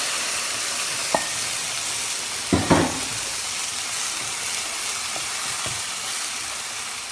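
Tomato sauce with onion sizzling and frying in a pan, a loud continuous hiss with a few brief clatters and bumps of a utensil or pan partway through.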